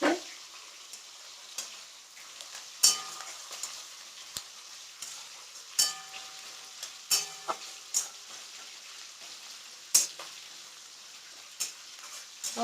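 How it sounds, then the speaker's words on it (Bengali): Onions sizzle steadily in a hot pan, with a spoon scraping and clinking against it every second or two. "কিন্তু তোমার পেঁয়াজটাও ভাজা হচ্ছে"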